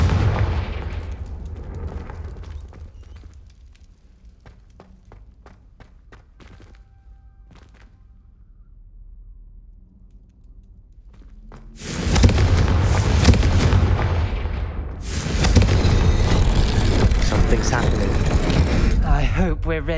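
The Confringo blasting spell in Hogwarts Legacy sets off a loud, sudden explosion that hits after a quieter stretch of faint clicks and rumble, followed by a sustained roaring blast and a second surge, with a voice calling out.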